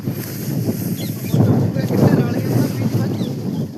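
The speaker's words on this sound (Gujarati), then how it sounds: "પવન ઢાઢો ઢાઢો છે" A strong cold wind blows outdoors on a rainy hillside, a loud continuous rushing roar that buffets the microphone and swells in stronger gusts partway through.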